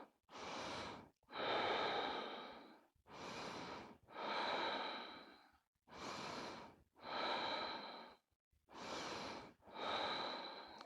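Slow, deep breaths are taken during a yoga pose, with audible inhales and exhales alternating in a steady rhythm, close and fairly quiet, with no talking.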